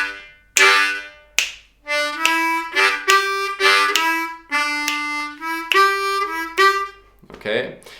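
A blues harmonica plays a blues lick, a quick phrase of bending, wavering reedy notes in short bursts with brief breathy gaps, close and clear.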